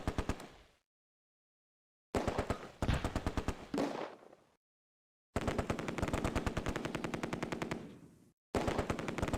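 An MG42 machine gun in the wartime strategy game Close Combat fires long, rapid bursts of close, loud automatic fire, separated by short silent pauses, with no voices.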